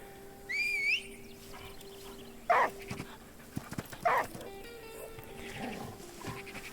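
Two sharp dog barks in the video game The Last Day of June ring out a couple of seconds apart, preceded by a rising whistle, over quiet electronic game sounds.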